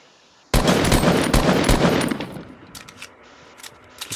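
Fortnite gunfire erupting suddenly after a quiet moment, a loud rapid burst of automatic shots that tails off into a few scattered shots.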